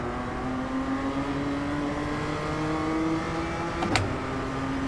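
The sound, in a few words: race car engines accelerating in iRacing video game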